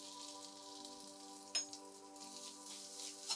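Grated coconut frying in melted ghee, a faint, steady fine crackle and hiss throughout with one brief louder pop partway through, heard close but quiet.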